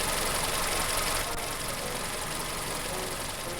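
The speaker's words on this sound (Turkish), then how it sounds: "Abi bu arabanın sesi ne kadar kötü ya." Rough, uneven idle of a car engine in the video game American Fugitive, a steady broadband rumble that holds at constant loudness with no talking over it.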